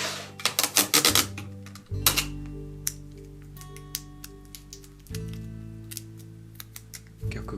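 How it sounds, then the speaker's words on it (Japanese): Cellophane tape is pulled and pressed to fix the ends of decorative strands to a vase for a New Year flower arrangement, giving crackly bursts of tape at first, then scattered ticks and taps over a low steady hum. "まずは両端をセロハンテープで留めていく"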